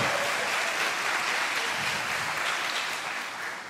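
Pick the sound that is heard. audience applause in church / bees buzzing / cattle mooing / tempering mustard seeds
audience applause in church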